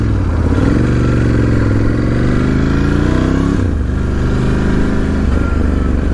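A 2018 Ducati Scrambler 1100 Special rumbles loudly and steadily while being ridden, its engine note rising in pitch through a gear, dropping briefly, then holding a constant droning growl with wind noise.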